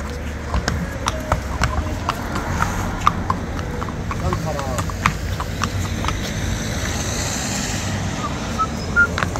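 Arabian horse hooves clip-clop steadily on a hard surface, close by, with people talking over them and faint traffic in the background.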